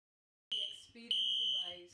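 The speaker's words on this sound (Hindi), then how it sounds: "लास्ट 5 मिनट से लगातार फायर अलार्म्स बज रहे हैं" Fire alarm going off inside a building: after half a second of silence, loud shrill electronic tones sound in two sustained bursts, near and harsh.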